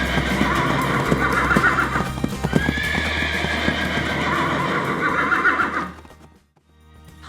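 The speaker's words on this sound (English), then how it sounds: "Horse. Caballo." A horse is heard with clip-clop hoof sounds and a neighing whinny, loud and close over a steady low rumble, before the sound drops away near the end.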